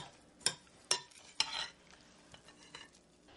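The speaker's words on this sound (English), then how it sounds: "we're just going to combine all these ingredients really well" Hash brown ingredients stirred together in a bowl, three sharp close scrapes of a utensil followed by softer mixing sounds, quiet and without talk.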